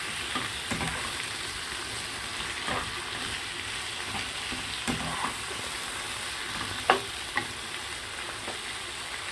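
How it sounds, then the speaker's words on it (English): Onion frying in a pan while making attieke, a steady soft sizzle with occasional stirring scrapes and clicks, close and continuous. "I'm just going to fry about 4 minutes in here. I just want my onion to be half and half cooked."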